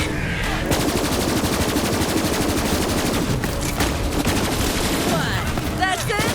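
Heavy, continuous automatic gunfire from the video game Borderlands 3 rattles densely and loudly throughout, with rapid overlapping shots and brief sweeping effects near the end.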